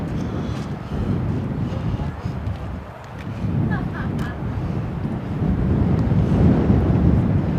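Wind blowing outdoors near an air base, a steady rushing gust that buffets the microphone and swells louder toward the end, with a voice talking over it.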